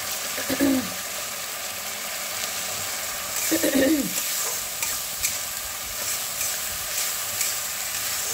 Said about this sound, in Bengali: এবার এই মশলাটাকে ভালো করে কষিয়ে নিতে হবে।